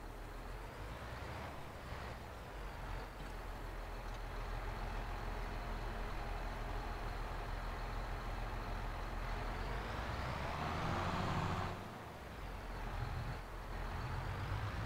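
A tractor engine runs on a farm field during field prep, a steady low rumbling drone that swells and holds before briefly dropping away and resuming, heard close with no talking.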